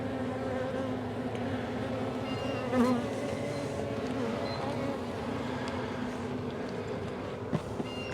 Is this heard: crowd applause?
no